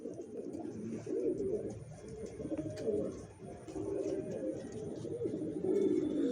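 Original racer pigeons, newly adult birds in a loft, coo continuously in low, throaty rolling calls that overlap into a steady murmur, close by and fairly soft.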